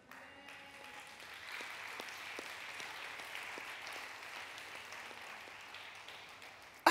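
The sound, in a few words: congregation applauding in church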